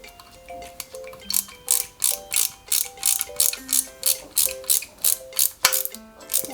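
A screwdriver drives small screws into the oil pan of a Lancia 037 scale model, giving a regular ratcheting tick-tick rhythm, close and clear, with a few faint tonal pings between the clicks.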